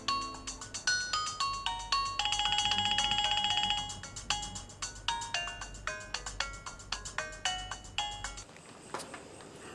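A phone ringtone plays a bright, repeating electronic melody of quick chiming notes, loud and close, running for several seconds before cutting off abruptly near the end.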